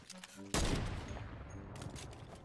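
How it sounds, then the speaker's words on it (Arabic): A sniper rifle fires in a multiplayer video game, one sharp loud shot followed by a long echoing tail, with faint gameplay sounds around it. "شفت طلقات سنايبر"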